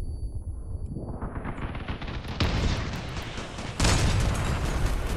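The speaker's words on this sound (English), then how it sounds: "Oh, he is shooting my cabin now." Tank gunfire in the combat game Crossout, with two heavy booming shots a second or so apart over a rumbling engine and battle noise, loud and close, no talk.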